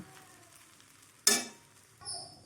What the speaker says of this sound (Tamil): வெங்காயம் இட்லி எல்லாமே வந்து ஒன்றா செய்கிறதுக்காக கிண்டி ஒரு ரெண்டு நிமிஷம் அடுப்பில் இருக்கட்டும்னு சொன்னேன்